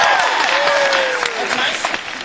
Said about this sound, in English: Let me see just by your applause quickly who here wrote a thesis